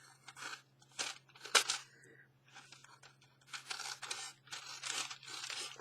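Scissors snip and paper crinkles as a damp, glued junk mail envelope is trimmed along its edge. The cuts come in short separate bursts with quiet pauses between, close up against a faint steady hum.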